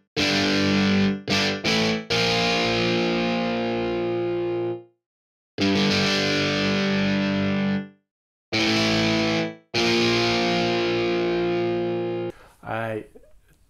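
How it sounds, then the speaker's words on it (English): Distorted rock guitar tones generated by a laptop from a LEGO MINDSTORMS MIDI guitar connected over Bluetooth, strummed in loud, sustained chord bursts separated by short silences, with a brief choppy tail at the end. "it sends notes to my laptop and the laptop generates guitar sounds"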